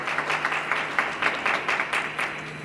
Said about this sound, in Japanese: 皆様今一度大きな拍手をよろしくお願いいたします